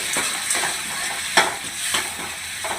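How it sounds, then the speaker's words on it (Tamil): Tomato sautéing in a pan in a village kitchen, a steady soft sizzle with repeated stirring scrapes every half second or so, close and moderately loud with no voices. "தக்காளி நல்லா வதங்கி வரட்டும்."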